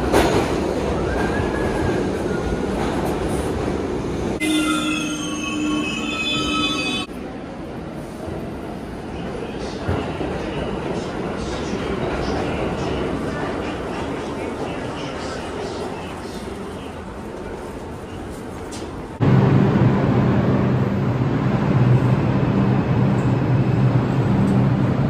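A New York City subway train carries riders toward Chinatown with a steady loud rumble of wheels on rails and clacking. Brief high squeals come in along the way, and the roar swells near the end. Voices can be heard faintly in the car.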